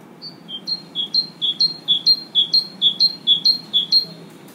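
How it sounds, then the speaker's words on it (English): A great tit sings a rapid, regular series of paired whistled notes, about a dozen clear repeated phrases in steady rhythm, close and prominent over faint background noise. "So this is called a great tit."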